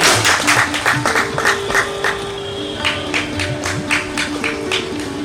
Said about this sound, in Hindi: जोरदार तालियां बजाएं इनके लिए